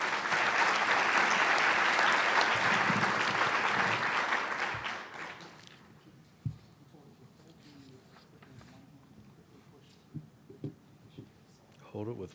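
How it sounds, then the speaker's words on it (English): Loud round of applause from a training-session audience fills the first five seconds, then fades out, leaving a quiet room with scattered small noises and faint talk. "And just give them a quick round of applause."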